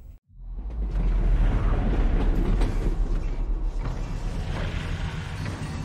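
A train rolls along in the VR game Half-Life: Alyx, a low rumbling hum with metallic creaks and clanks riding over it, loud and continuous after a brief silent start, no talking.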